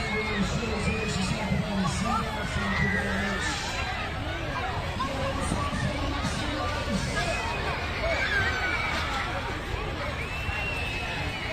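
A large outdoor Eid crowd in a London park screams and cheers steadily at close range, with loud chatter and shouting layered throughout and voices talking over the din.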